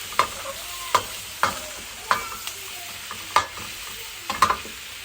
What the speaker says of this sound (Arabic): بعد كده ننزل عليه البصل والفلفل. كده نقلب بقى.